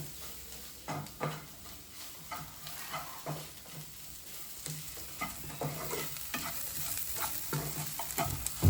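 Black beef roast being stirred and fried in a pan, with steady sizzling and repeated scraping stir strokes about once a second, close and moderately loud, no talking.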